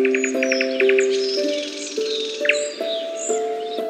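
A bulbul sings out in a string of quick, bright chirps and short whistled phrases, near and clear. A steady tonal hum plays underneath the bird.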